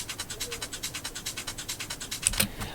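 A scratchy, groovy percussion thickener loop for a deep trance mix repeats in a steady rhythmic pulse of crisp, bright hits, played alone and fairly loud, with a slightly heavier accent near the end.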